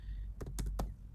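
A few quick computer keyboard keystrokes click close by, three or four sharp taps in under a second as a terminal command is entered, with no talking.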